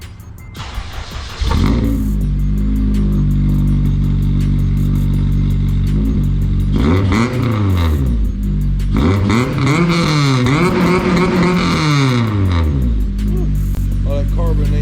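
A Honda Civic FG2 with a K24 engine and a new header fires up with a loud cranking catch, then idles roughly and revs repeatedly in rising and falling sweeps, close and raw.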